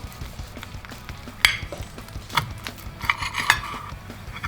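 A knife slices a salmon roulade in half on a plate, with a few sharp clinks and scrapes of metal on the dish over a quiet kitchen background.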